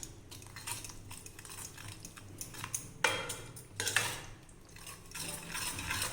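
Cooked spinach dal being stirred in a pot at close range: a spoon scrapes and clinks irregularly against the metal, with a few louder knocks.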